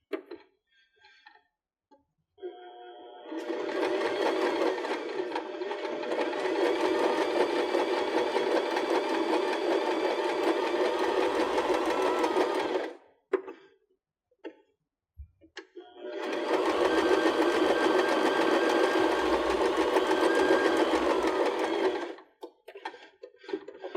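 A sewing machine stitching cork fabric for a pillow, two long steady runs of close mechanical whirring with a quiet pause between them and small clicks at the edges, no voices.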